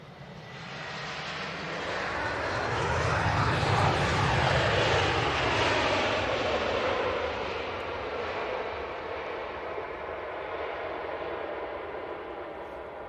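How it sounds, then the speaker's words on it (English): A Finnair Airbus A321 arriving from Helsinki at Manchester Airport: a broad jet roar that swells over several seconds, peaks, then holds as a steady fading rush, heard from a distance outdoors. "Finnair next though, it's the A321 coming in from Helsinki."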